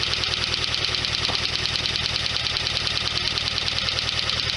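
A 1991 Lotus Elan engine idles while warming up after cooling system repairs, giving a steady, even drone with a quick rhythmic pulsing and light ticking that runs unbroken throughout.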